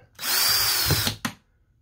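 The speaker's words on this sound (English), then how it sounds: "I can line these others up and then just drill that hole out." Power drill boring a hole in a mini keg Bluetooth speaker build, one loud sustained burst of about a second that cuts off, followed by a short second blip, no talk.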